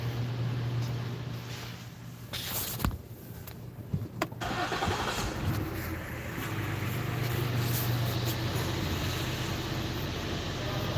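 A 2018 Ford Explorer engine starts up and settles into a steady idle, a continuous close-miked hum with a few brief clicks and knocks early on.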